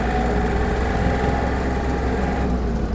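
A Yanmar US-324 mini tractor's diesel engine chugs steadily as the clutch is let out and the machine pulls away, a close, continuous low rumble with a faint rise in pitch near the end.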